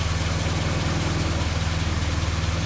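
Original, low-mileage 1970 Morris Minor engine idling with a new exhaust, a steady loud rhythmic putter running alone with no voices.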